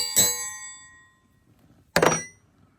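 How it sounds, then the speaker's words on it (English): A handheld dinner bell at a truck campsite in Ledges State Park, Iowa, rings twice, about two seconds apart, each bright clang loud and close, then decaying into quiet. "I even picked up my dinner's ready bell."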